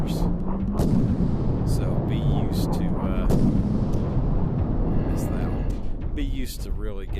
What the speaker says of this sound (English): It's a one-shot kill with dual howitzers.